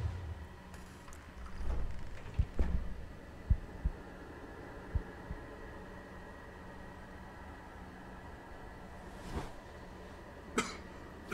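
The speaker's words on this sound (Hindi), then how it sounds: "हाँ खांस लो भाई, खांस लो खांस लो, खांसना ज़्यादा ज़रूरी है भाई।" Several short coughs and throat-clearing bursts from a person during the House on the Hill game, scattered and fairly close over a low steady hum, with a couple more isolated coughs later.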